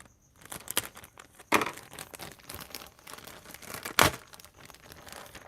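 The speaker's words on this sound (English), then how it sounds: "Let me get the hobby knife. Cut this little bag." A hobby knife cuts open a small plastic bag, giving crinkling and rustling plastic with a couple of sharper tearing bursts, close and fairly quiet.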